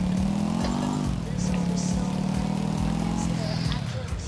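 Motorcycle ridden in the PC game GTA IV, its engine droning steadily with pitch rising and dipping through throttle changes, loud and close, with faint background hubbub.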